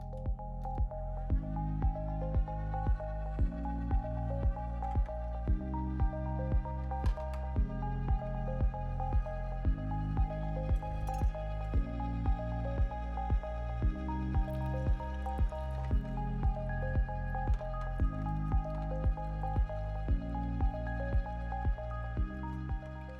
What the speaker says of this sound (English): Watermelon should juice pretty easily in most any juicer because it's got such a high liquid content.